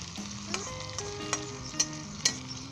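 Diced potatoes frying in a pan with cumin seeds, red chilli and ginger, a steady close sizzle punctuated by several sharp stirring scrapes and clinks at roughly half-second intervals, with no talking.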